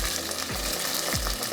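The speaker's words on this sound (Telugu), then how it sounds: "కొద్దిగా వాటర్ ఉంటుంది కదా, అందుకే చిట్టుపట్టుమంటుంది" Brinjals and prawns fry in a pan with a dense, crackling sizzle, close and steady, while a couple of low scraping stirs pass through.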